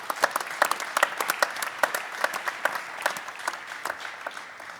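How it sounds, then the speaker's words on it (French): An audience at a 2017 athletics meeting press conference in Vendôme breaks into steady applause, a crisp crackle of many hands at moderate volume with no voices. "je pense que vous pouvez applaudir nos féminines"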